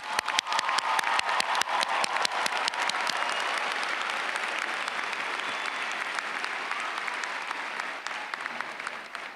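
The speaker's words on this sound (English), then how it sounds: "We've got to start by giving you a round of applause." A large graduation audience at the 2022 Cambridge College commencement applauds steadily, dense clapping that starts loud and thins slightly toward the end, with no voices over it.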